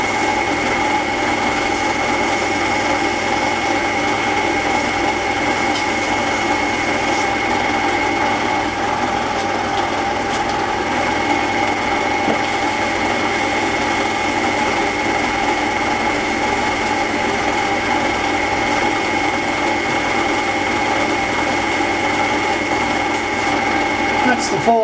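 Sandpaper of 400 grade rubbing a wooden pen turning on a lathe, a steady, loud mechanical whir with constant hum that runs unbroken throughout, near and even in level.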